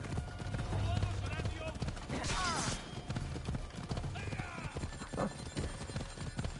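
Horse hooves clip-clop through a busy Assassin's Creed Odyssey soundscape, with a whinny and a talking voice layered over the steady rumble of movement.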